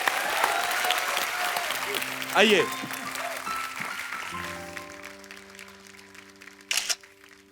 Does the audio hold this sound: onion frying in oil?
no